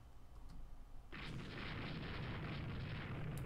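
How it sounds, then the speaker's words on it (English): Naval guns in the Rule the Waves II naval warfare game open fire on a battlecruiser: a sudden heavy rumbling blast erupts after a quiet moment and rolls on as a sustained, dense roar to the end. "We are starting to fire on the battlecruiser over here."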